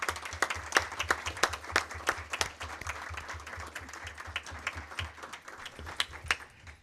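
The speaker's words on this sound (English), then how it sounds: "I just would like us to just give him a round of applause." Attendees at a Maryland State Board of Education meeting clap for several seconds, sparse, distinct handclaps in an indoor room, moderately quiet and irregular.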